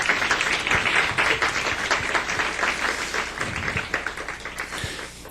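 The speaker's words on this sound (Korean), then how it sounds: "우리 손자, 손녀들 잘 크도록 박수 한번." A church congregation claps for the grandchildren, loud at first and gradually thinning as the applause tapers off, with a few sharp individual claps standing out.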